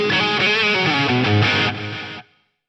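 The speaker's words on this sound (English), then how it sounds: "So now my delay feedback loop has that plate reverb on it." Guitar tone through a Lexicon MPX-1 delay with plate reverb in its feedback loop, a dense distorted, effected wash of sustained notes that holds loud and steady, then cuts off into a short decaying tail.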